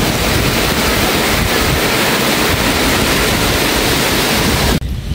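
Rushing typhoon floodwater in Mindoro roars like the sea, a steady, loud broadband wash with wind noise on the microphone that continues unbroken before cutting off abruptly near the end.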